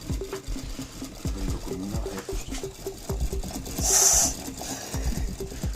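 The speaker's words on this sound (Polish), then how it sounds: "Dmuchawka, jak sama nazwa wskazuje, dmuchuje nam dodatkową parę do komina." Steam blower on a model Ol49 steam locomotive gives a short, fairly loud hiss near the middle, over steady mechanical clicking and tapping from the running model.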